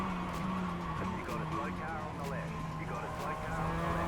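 Sim racing game race car spinning out, tires skidding and squealing in wavering streaks over a steady engine drone, with a person talking throughout.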